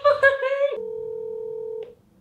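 A phone call is dialed: a rapid burst of keypad tones gives way to a single steady electronic tone, which then cuts off into quiet.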